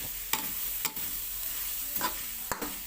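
Shallots and garlic frying in pork lard, a steady close sizzle punctuated by four distinct clacks of a utensil against the pan at uneven intervals, with no voices.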